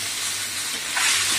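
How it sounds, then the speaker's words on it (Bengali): Eggs fry in hot oil with potato, turmeric and salt, giving a steady, close sizzle and hiss that swells slightly near the end, with no talking. "এরকম করে ডিমটা ভাজলে কালারটা ভালো ধরে ডিমে।"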